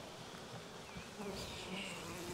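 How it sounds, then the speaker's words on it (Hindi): Honey bees buzzing around a hive frame lifted out at a bee farm, a continuous dense hum of many insects close to the microphone, faint and steady throughout. "ये यहीं पे पूरा शहद बनाती है मक्खियाँ"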